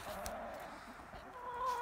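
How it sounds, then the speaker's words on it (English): Soft clucking from chickens nearby, low and murmuring, over a faint outdoor background. "Got the chickens here."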